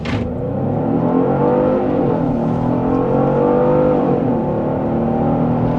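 Strong, continuous engine roar from a 2026 Genesis GV70 3.5T SUV accelerating in sport mode, rising and falling slightly in pitch as it pulls, loud and steady with no talk.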